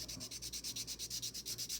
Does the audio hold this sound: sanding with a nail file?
yes